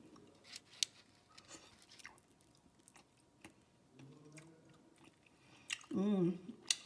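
A bite of Asian-style seasoned salmon being chewed, giving soft, wet, intermittent mouth sounds near the microphone, with a brief burst of voiced humming or speech near the end.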